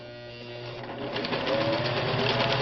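A restored Singer 401A sewing machine stitches in a continuous, fast mechanical whir that builds slightly in speed and loudness, heard close with no speech.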